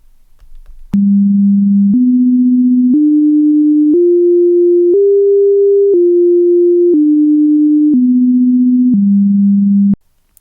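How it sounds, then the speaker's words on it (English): Pure sine tones of musical harmonics, shifted an octave into easy listening range, play one at a time as nine steady steps, rising in pitch and then falling back, each about a second long, loud and clean with no talk. "And here's what those 4 harmonics sound like."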